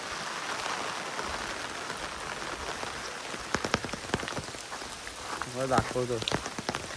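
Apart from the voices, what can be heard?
heavy rain falling in village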